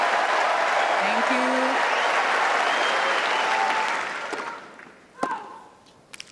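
Wimbledon tennis crowd breaks into loud, sustained applause that fades away after about four seconds, followed by a few sharp knocks and a voice talking.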